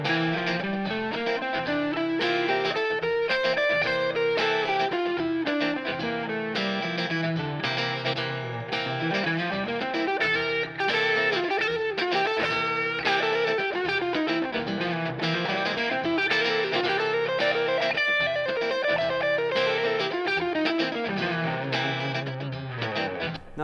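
An electric guitar with heavy distortion, chorus and echo runs steadily up and down the Mixolydian scale in a continuous, evenly loud line of notes.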